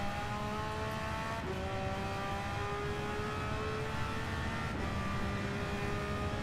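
A race car engine in Gran Turismo 7 at Deep Forest Raceway is held at high RPM with a steady, buzzing whine. Two quick gear shifts break the drone before it climbs again, with no voices over it.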